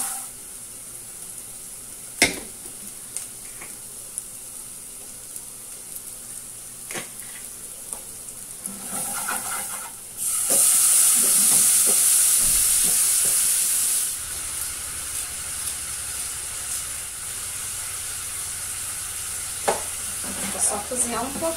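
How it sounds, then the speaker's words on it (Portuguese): Pasta seasoning cooks in a pot with a steady sizzle and occasional clinks, then a louder burst of hissing steam for a few seconds before settling back to quieter frying; no speech. "Só cozinhar um pouquinho o tempero do macarrão"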